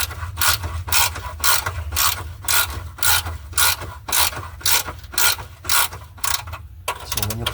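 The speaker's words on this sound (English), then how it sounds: "I'm gonna release this bolt a little bit more" Hand ratchet loosening a bolt on the radiator support of a 2009 Dodge Journey, heard as a steady series of about a dozen sharp, loud clicking strokes at an even pace. It is close-up with no talking.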